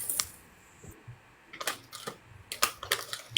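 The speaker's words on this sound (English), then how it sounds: "I know for a fact I heard a keyboard and I have no keyboard here" Sparse clicks and taps like keys on a computer keyboard, heard in a few short bursts with quiet gaps between, fairly faint and close, with no talking.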